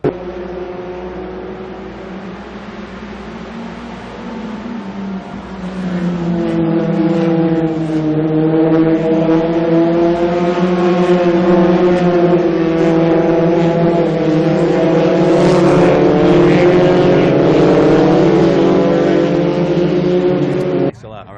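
An F-2000 open-wheel race car engine in a 2010 racing series, idling with a steady tone and then rising in pitch and loudness from about five seconds as it revs, holding a sustained high drone close to the microphone.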